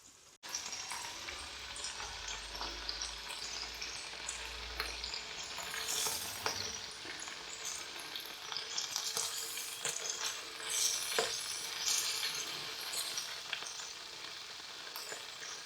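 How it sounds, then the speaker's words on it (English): Bacon frying on a low simmer in a Trangia camping frying pan, producing a steady, close, moderately quiet sizzle with light crackles and occasional utensil scrapes, no voices. "I don't want to burn anything, although I do want my bacon to go crispy."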